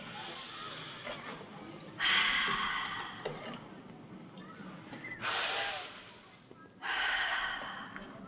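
A woman breathes in three heavy, gasping bursts of breath, each about a second long with pauses in between, close to the microphone and moderately loud over a quiet room background.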